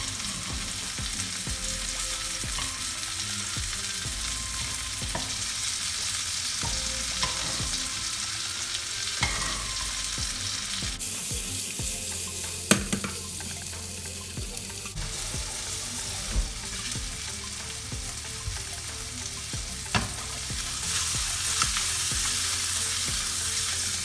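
Sole fish frying in a hot pan, a continuous loud sizzle with occasional pops and crackles that brightens near the end.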